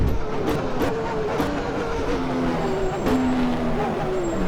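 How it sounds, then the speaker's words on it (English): An F1 race car doing a burnout in the F1 1996 racing game at Interlagos, a steady loud engine drone with shifting pitch tones held throughout, with no talk over it. "Let's do some burnout."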